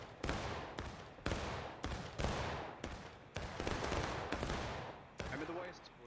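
Musket volleys in a large 250-player American Civil War video game battle, heard as roughly ten loud, sharp shots, each a booming crack with a trailing echo, at irregular intervals. A faint voice is briefly present near the end.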